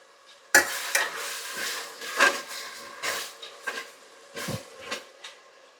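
A bay leaf frying in a pot for Bengaluru-style donne biryani with country chicken, stirred in a series of distinct scraping strokes over a soft, faint sizzle, with short pauses between the stirs.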